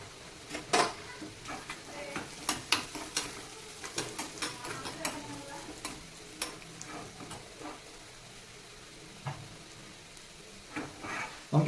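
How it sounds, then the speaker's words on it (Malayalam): Chili powder tipped into hot oil for tempering a Malabar-style raw mango curry, giving a steady crackling sizzle broken by sharp pops and the clink of a utensil against the pan, close and without any voices. "ഇതിലേക്ക് ഒരു 1/4 ടീസ്പൂൺ മുളക് പൊടി നമ്മൾ വറവിലേക്ക് ഇട്ട് കൊടുക്കാം."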